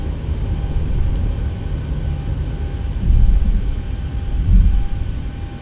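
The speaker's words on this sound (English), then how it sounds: "We're taxiing into the gate." A jet airliner taxis to the gate at Jacksonville, heard from inside the cabin as a steady low rumble and hum, with a couple of heavier surges toward the end and no talking.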